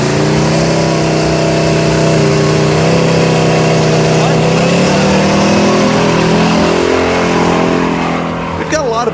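A Jaguar car's engine accelerating hard down a straight on a road course, a loud, steady mid-pitched roar climbing through the revs from inside the car, with voices talking over it.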